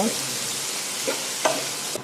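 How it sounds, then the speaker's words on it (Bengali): Onions sizzle steadily in hot oil, a constant crackling hiss broken by a few light scrapes of a stirring utensil. "এবার পেঁয়াজটা আমি হালকা ব্রাউন করে ভেজে নেব"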